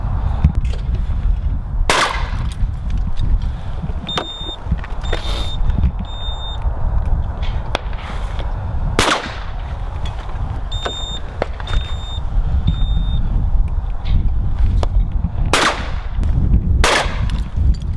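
Shotgun shots fired on a clay shooting layout with Promatic traps, several sharp cracks at irregular intervals standing out over steady outdoor rumble and wind, with faint beeps from the trap system between them.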